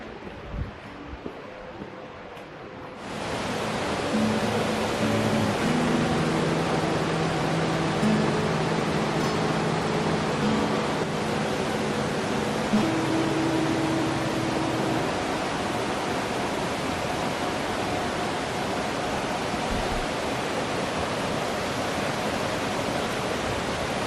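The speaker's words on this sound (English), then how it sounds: "That's the waterfall" Elabana Falls pours heavy water in a steady, dense roar that comes in suddenly after a few quiet seconds and then holds loud and unbroken for the rest of the time.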